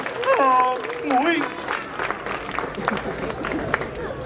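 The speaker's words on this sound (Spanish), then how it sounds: "¡Fuerte el aplauso para" Audience clapping at a puppet theatre show, a brief vocal exclamation at the start giving way to a steady patter of applause from a room of spectators that carries on to the end.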